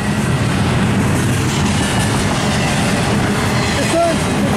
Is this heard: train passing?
yes